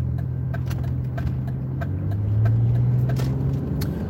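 A car in Greenwood, South Carolina idles nearby with a low, steady engine rumble that swells slightly partway through, with a few light ticks on top and no speech.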